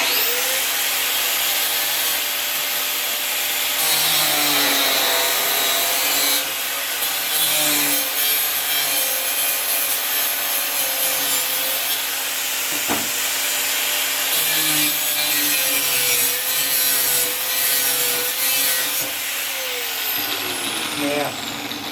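A hand saw works through wooden lathe parts in a workshop, notching out corners with steady back-and-forth rasping strokes that carry on close and loud, with someone talking over it.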